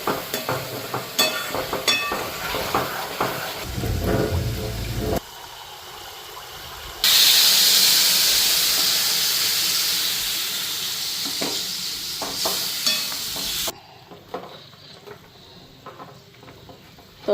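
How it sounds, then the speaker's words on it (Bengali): Spice masala fries in a pan with a continuous hissing sizzle, interrupted by stirring scrapes and clanks, with the sizzle swelling louder midway and then dropping off sharply toward the end. "মশলাটা ভাজা ভাজা হয়ে আসছে।"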